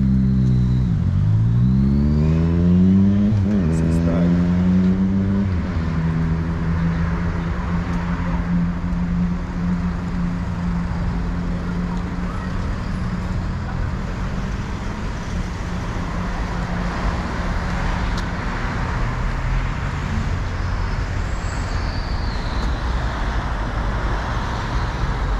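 Night traffic in Melbourne near the Melbourne Cricket Ground, close and loud, with a vehicle engine rising and falling in pitch as it pulls away. A continuous low rumble of road noise holds underneath throughout.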